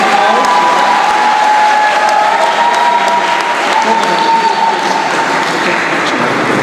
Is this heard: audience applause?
yes